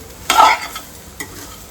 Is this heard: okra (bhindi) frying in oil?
yes